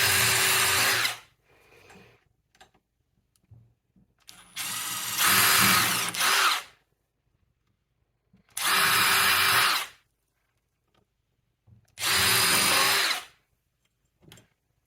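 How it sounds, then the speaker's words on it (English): A power drill pre-drilling screw holes whirs in three short bursts separated by pauses, with quieter handling clatter between, loud and close. "all I'm doing is pre-drilling the holes just so the screw goes in straight"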